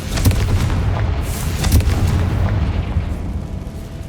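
Confringo fire spell in Hogwarts Legacy, a dense rolling burst of booming blasts and crackling detonations that fills the space loudly for several seconds without talk.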